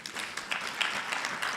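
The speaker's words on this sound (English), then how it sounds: "Please clap for him." An audience at the Uganda Diaspora Convention claps for a speaker, a brief burst of dense, steady applause heard fairly close.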